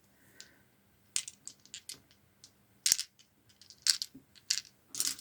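A handful of seventeen dice clatter onto a table during a Kursk tabletop wargame, with sharp plastic clicks and rattles in quick, scattered bursts, close and fairly quiet against near silence.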